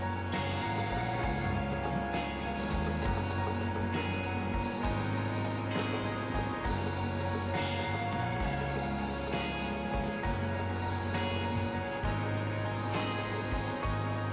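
A B Medical L130 medical refrigerator sounds its temperature alarm: seven evenly spaced bursts of high electronic beeping, each lasting about a second, clear and steady over a low background hum.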